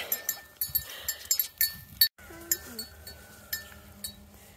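Goats on a farm make short bleating calls over a steady jingle of clinking bells, several brief bleats in a row at moderate distance.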